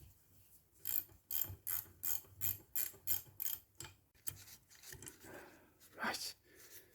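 A ratchet wrench loosens a nut on a Weber 28/30 carburetor, giving a steady series of sharp, close ratcheting clicks, then looser metallic clatter and handling noise.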